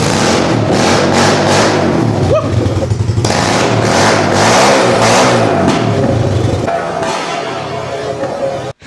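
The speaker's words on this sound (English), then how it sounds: "Let's fire her up and see what she sounds like with no muffler." A three-wheeler engine running with a Temu aftermarket exhaust and no muffler: loud, close, raw revving that rises and falls in repeated blips over a rough idle, ending abruptly.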